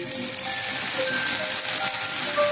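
Onions sizzle in hot oil in a pan for a chicken dish, a loud steady frying hiss close up with faint crackles and no talking over it.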